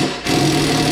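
Power tool removing rusty 10 mm bolts from the rack of a Honda Big Red 250ES ATV under restoration, a close, loud, steady whir lasting about a second after a brief quieter start.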